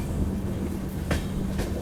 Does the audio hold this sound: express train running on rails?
yes